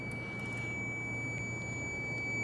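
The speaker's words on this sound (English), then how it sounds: "can hear that beeping" A steady high-pitched electronic beep from a multimeter continuity test on a Mercedes A-Class push-button start holds continuously over a low background hum, with no pauses.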